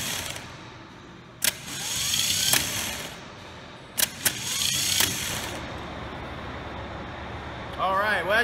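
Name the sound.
car starter motor bench test, solenoid jumped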